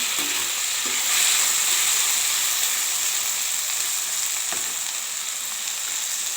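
Two medium tomatoes and onion fry in a pan for Andhra-style rasam, a steady close sizzle with faint stirring clicks and no talking.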